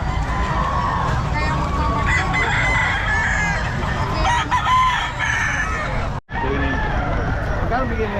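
Roosters crow and chickens cluck loudly, gamefowl in heavy rain, over a steady wash of noise and background chatter, with many birds calling at once.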